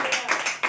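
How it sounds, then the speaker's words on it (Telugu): A church congregation claps together during a Sunday service, a few quick rhythmic bursts of hand claps close by, brief and moderately loud. "చప్పట్లు కొట్టి దేవుని మహిమపరుచుదాం."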